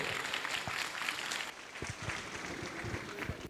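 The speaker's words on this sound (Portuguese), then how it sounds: "Vamos recebê-lo também com uma salva de palmas" A crowd at a public consultation meeting on the Igarapé Guanabara project gives a brief burst of applause, a busy and fairly even patter of many hands at moderate level with no voices over it.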